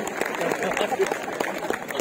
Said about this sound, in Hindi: आप एक बार ताली बजावा, थोड़ा जोरदार ताली बजावा